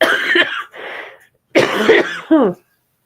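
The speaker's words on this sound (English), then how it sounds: "Oh, I'm going to cough" A person getting over a cold coughs close to the microphone in a few harsh bursts, with brief pauses in between and a short throaty clearing at the end.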